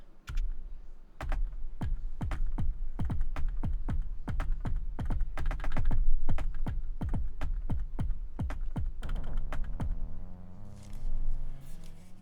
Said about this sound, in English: it's a little bit awkward to type on the keyboard right now